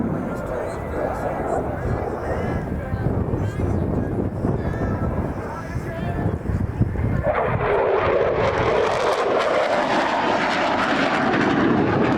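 An F-16 jet flies a display at the Royal International Air Tattoo air show, a steady loud engine roar that swells into a stronger rushing sweep as it passes, with a commentator talking over it.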